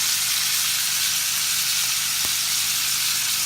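Cut garlic and thyme sizzling in a hot pan, a loud, steady frying hiss with a faint knock partway through, close and continuous with no talk.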